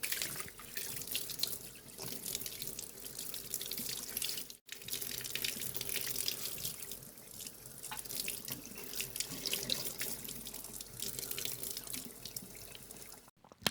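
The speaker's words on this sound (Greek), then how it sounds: "Ξεπλένουμε δηλαδή τα πάντα κάτω από τρεχούμενο νερό" Running tap water streams steadily into a sink as the milk frother parts of a Nespresso Lattissima One coffee machine are rinsed, a continuous close splashing flow with slight variations and one short break.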